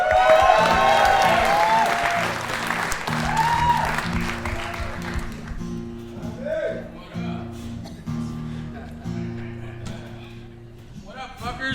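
Applause and some cheering from a comedy festival crowd in Yakima, Washington, welcoming a stand-up comic onto the stage, loud at first and then thinning, with music playing and a voice heard over the clapping.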